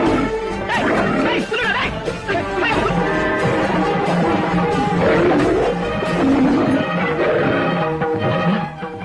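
A tiger roars in a dense, loud scene, with a deep growling roar layered under dramatic music and crashing effects that run continuously throughout.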